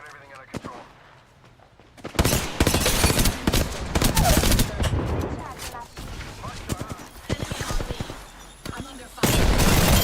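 Apex Legends gunfire rattles in dense, loud bursts of rapid shots that go on for several seconds, then pause briefly before another burst begins.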